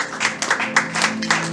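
A congregation applauding at an evening gospel church service, a short burst of rapid, dense clapping from many hands nearby, with no clear cheering voices.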